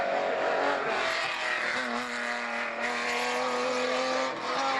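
A competition race car's engine roars past at a circuit race, a loud, sustained high-revving whine that holds steady for several seconds with slight pitch shifts.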